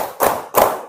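A class of students claps hands together in a classroom clapping game, two sharp group claps in quick succession, near and fairly loud.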